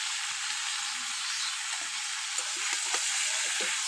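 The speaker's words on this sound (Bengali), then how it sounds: "দিয়ে একটু নাড়িয়ে চাড়িয়ে নেব।" Tilapia and pumpkin curry sizzles in a pan with salt and turmeric while being stirred, a steady hiss of frying overlaid with light scrapes and clinks that grow more frequent toward the end, no speech.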